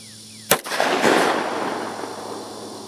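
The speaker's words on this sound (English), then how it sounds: "Here's some 9mm rounds downrange unsuppressed." One sharp, loud shot from an unsuppressed 9mm pistol fired downrange with subsonic ammunition, followed by a second boom and a long rolling echo that fades slowly across the range.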